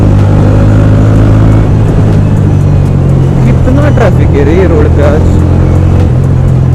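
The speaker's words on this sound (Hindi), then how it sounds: "ट्रैफिक है रे रोड पे आज." Heavy road traffic in India with cars and other vehicles passing close by, a loud continuous engine rumble and whoosh with some rising revs, under someone talking.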